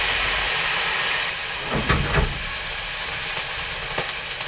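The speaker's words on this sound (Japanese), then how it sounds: "白ワインを入れて強火で熱して" White wine is poured into a hot pan over high heat and erupts in a loud, hissing sizzle and steam that fades to a steady crackle with a few sharp spits, close up and without talk.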